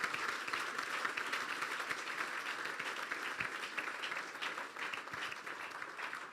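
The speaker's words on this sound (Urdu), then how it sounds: "پھر بجا دیں تالیاں یسوع کے لیے" Church congregation applauding for Jesus during a Pastor Haroon Moeen sermon, a dense, steady wash of clapping from many hands that holds evenly throughout at moderate volume, with no voices over it.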